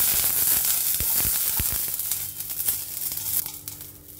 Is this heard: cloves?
yes